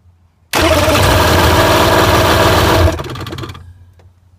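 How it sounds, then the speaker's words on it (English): A Ficht outboard boat engine cranks and catches abruptly, running loud and steady for a couple of seconds before its roar drops and fades toward a quieter idle. "I'm now going to start the engine and trigger a trouble code."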